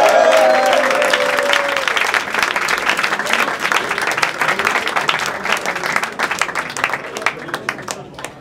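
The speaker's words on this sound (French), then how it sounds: "Julien, est-ce qu'on peut faire du bruit pour eux s'il vous plaît" A crowd applauds and cheers for a team at the close of a French event, with dense, continuous clapping that starts loud and gradually thins over several seconds.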